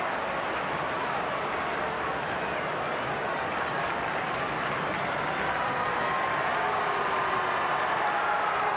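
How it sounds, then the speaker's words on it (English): A dense, steady roar rises from the stadium crowd at an Essendon versus Hawthorn Australian football match in 2004, a continuous broad wash of cheering and noise that holds without a break for nearly nine seconds. "the crowd making some noise, distracted by, I think, a few patrons who are being ejected from the stadium"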